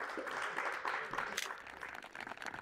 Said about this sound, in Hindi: एक बार फिर जोरदार तालियां बचाइए